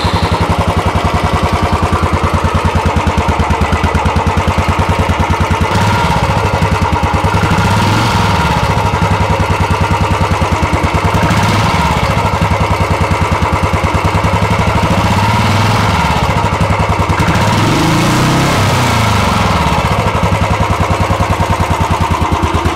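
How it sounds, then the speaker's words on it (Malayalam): A Royal Enfield Classic 350 BS6 motorcycle engine runs continuously and loudly up close, a steady thumping idle with a few gentle rises in revs and no speech. "നമുക്ക് നമ്മുടെ വണ്ടീൻ്റെ സൗണ്ട് ഒന്ന് ഞാൻ കേൾപ്പിച്ചുതരാം"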